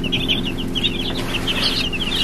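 Baby Rustic Ranger chicks in their first week, raised off grid, chirp continuously in a dense, overlapping chorus of high peeps, close and fairly loud over a steady low hum.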